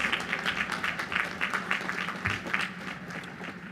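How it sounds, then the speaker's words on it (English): A graduation ceremony crowd gives families a round of applause, heard as a faint, distant, rhythmic patter of claps across a large venue, thinning toward the end. "Give your family members a round of applause."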